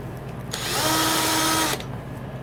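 A power tool grinds the dome of a YZ250 two-stroke cylinder head in one short, close, high whirring burst of about a second, rising and falling, with no talk.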